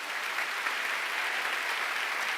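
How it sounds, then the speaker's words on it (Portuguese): A church congregation claps loudly and steadily, a dense, continuous wash of applause filling the room with no voices over it. "Dê um aplauso bem forte ao Senhor."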